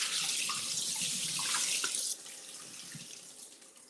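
Tap water runs steadily into a sink while rice is rinsed, a loud broadband rush that drops to a softer flow halfway through as the stream shifts, with faint splashes and no voices.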